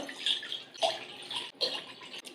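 Water is poured from a bowl into a pan for mango semolina sheera, heard as a few short, close splashing bursts with brief pauses between them and no talking.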